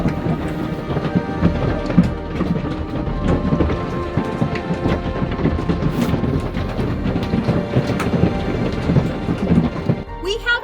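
Steady heavy rain pours throughout with deep rolling thunder rumbling beneath it, a full, dense storm sound with no voices.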